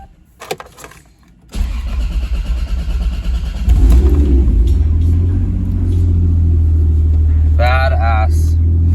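A 500whp Toyota Supra cranks and fires up after a brief quiet start. It settles into a loud, close, rumbling idle that swells slightly a couple of seconds later, and a short voice cuts in near the end.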